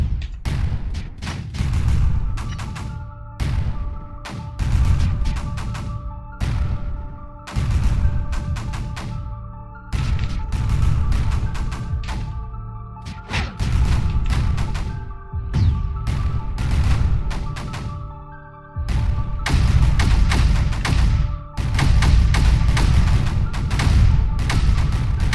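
A spore launcher is destroyed in the strategy game Creeper World 4, with repeated heavy booms and thudding blasts in rolling bursts, loud and close, pausing briefly before a dense final barrage.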